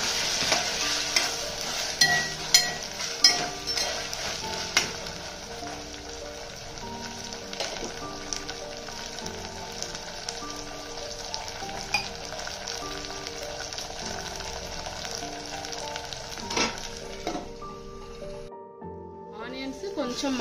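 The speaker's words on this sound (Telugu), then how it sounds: "అల్లం వెల్లుల్లి పేస్ట్ కూడా మనం పచ్చివాసన పోయేంత వరకు ఫ్రై చేసుకోవాలి" Ginger garlic paste frying in a pan, a steady sizzle broken by scraping stirs that are clustered early on, continuous with a brief drop near the end, with a person talking over it.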